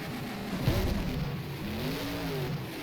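A late model race car engine in the rFactor racing game at LaSalle drones steadily, revving with a raspy, buzzing tone throughout at moderate loudness.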